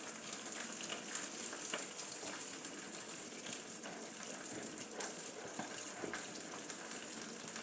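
Sauce for three-flavour sea bass simmers and is stirred in a pan, giving a steady, soft, bubbling sizzle with faint scrapes and no talk.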